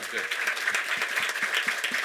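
A studio audience at a Korean talk show claps in a brief burst, close and fairly steady, with faint voices mixed into the applause.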